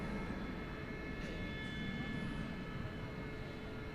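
An airliner at DFW Airport, recorded at night while plane spotting, gives off a continuous broad jet roar with a steady whining engine tone, heard from a distance and holding level throughout.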